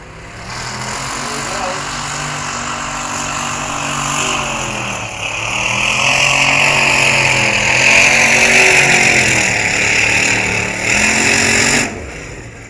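A race truck engine at a night truck-pull event, Thunder on the Prairies 2024, roars loud and sustained, rising and holding high revs with harmonic whine and crowd noise, then cutting off near the end.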